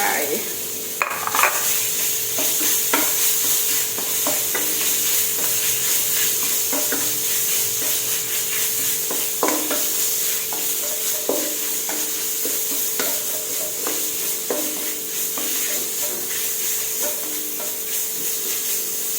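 Minced pork stir-fried with red chili curry paste in a pan: a spatula scrapes and clatters repeatedly over a constant close sizzle, with no talking.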